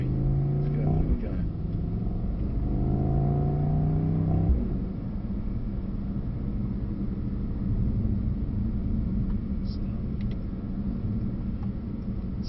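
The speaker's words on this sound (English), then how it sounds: "it makes a really good noise, that 4-litre V8" A Mercedes SL63 with a 4-litre V8 revs up with a rising engine note, heard from inside the car. After a few seconds the engine settles into a steady, low rumble that lasts through the rest.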